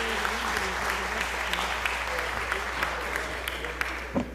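Audience applause in a state House chamber, steady and moderately loud across the whole stretch, with a faint hum underneath and a brief louder clap near the end.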